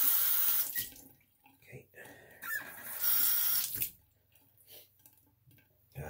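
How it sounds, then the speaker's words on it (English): Tap water runs into a bathroom sink for rinsing after a straight-razor shave, a close broadband rush that swells and fades in several bursts, with brief quieter gaps between. "Okay, I'm gonna rinse off."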